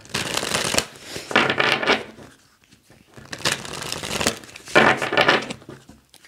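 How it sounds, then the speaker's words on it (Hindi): Tarot cards are shuffled by hand in bursts of rapid riffling and slapping, two clear busy passages separated by a short near-silent pause, close and fairly loud with no talk. "कार्ड्स को शफल करते हैं"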